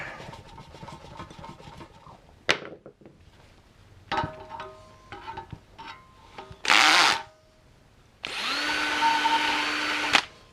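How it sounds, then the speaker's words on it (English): A hand drill with its clutch turned all the way down polishes metal parts of a Nintendo Dual, with intermittent whirring bursts and scraping contact, ending in a loud sustained high-speed spin near the end; no speech. "I've got the clutch turned all the way down on my drill here"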